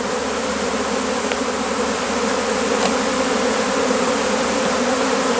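A honeybee swarm is being collected into a hive box, its dense buzz loud, close and unbroken throughout, with no voices over it.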